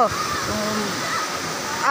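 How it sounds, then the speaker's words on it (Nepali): A mountain waterfall pours down into a stream near Pakyong, making a close, continuous roar of rushing water with faint voices over it. "ऊ माथिबाटै टुप्पैबाट झर्ना बगेर यसरी आएको छ"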